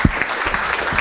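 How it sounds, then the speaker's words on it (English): An audience gives a round of applause at a blockchain and smart-cities conference, a steady wash of clapping that holds at an even level through the short stretch. "Let's give him a round of applause,"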